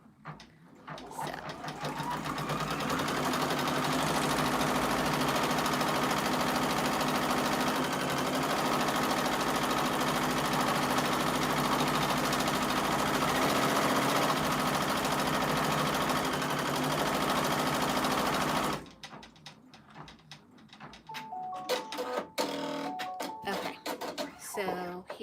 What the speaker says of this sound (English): here's the placement stitch for the bottom of the hat